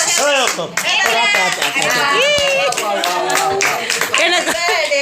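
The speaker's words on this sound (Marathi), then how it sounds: "इकडे इकडे टाळ्या वाजवणार तुम्ही" Clapping from a family group at a child's birthday celebration at home, with children's voices and chatter over the applause.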